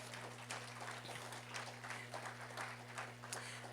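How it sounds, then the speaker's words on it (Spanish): Church congregation applauding during a Spanish-language sermon, a steady wash of many hands clapping at moderate distance, fairly quiet, over a constant low electrical hum. "Denle un aplauso a Él, hermano."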